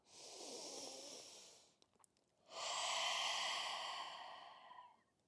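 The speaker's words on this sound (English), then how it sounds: "Strong breath in and out." Two strong breaths during a yoga half moon pose: a long airy inhale, a brief pause, then a fuller, louder hissing exhale that fades out, close and alone without talk.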